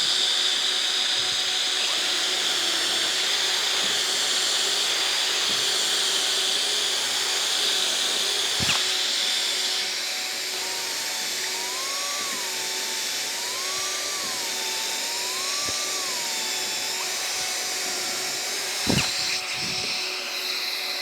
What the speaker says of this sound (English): I'm going to turn on my dust extraction.